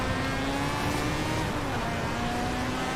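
Engine of a 1985 Mazda RX-7 GSL-SE in the Forza Horizon 4 racing game, a loud continuous drone that holds at high revs and dips slightly, with no talking.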